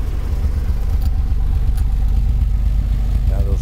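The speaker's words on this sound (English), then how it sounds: "Good engine, you can hear it run." A 1990 Nissan 300ZX V6 with mufflers idles steadily, a low rumbling engine running close by with a constant loud drone and no revs, and a brief faint tone near the end.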